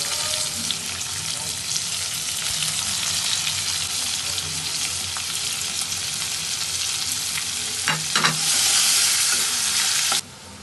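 Chopped onion, bay leaves, cinnamon and cardamom fry in hot oil for a prawn malai curry, giving a steady loud sizzle with stirring scrapes throughout and a brief clatter near the end.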